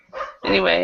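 Dogs in a home bark in two short bursts, a brief yap followed by a louder, sustained bark, close by while a person speaks a word.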